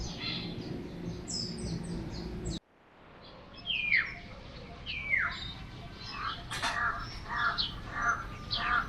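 Crow cawing near an old cemetery in Bolinao, several harsh caws repeating at moderate distance after an abrupt cut, with other smaller bird chirps mixed in.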